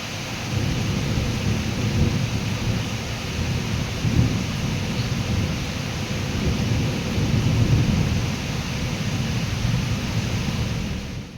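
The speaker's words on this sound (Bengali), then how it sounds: "বিক্ষিপ্তভাবে শুরু হয়েছে হালকা থেকে মাঝারি বৃষ্টি" Steady rain pours continuously with a low rumble underneath, a dense, even hiss with no voices.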